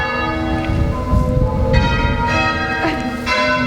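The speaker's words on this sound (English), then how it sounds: "Listen to the bells." Church bells peal steadily on Remembrance Day, several bells ringing loud and close in overlapping strokes with a rich ringing hum throughout, no one speaking.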